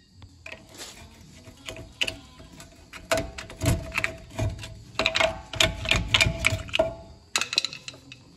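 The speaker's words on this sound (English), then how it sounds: "I'm going to get a flat screwdriver, I'm going to stick it in here, and I'm going to pry that caliper off those pads." Flat screwdriver prying a car brake caliper off its pads: a close run of sharp metallic clicks, scrapes and knocks, irregular and bunched, loudest in the middle, with no talking.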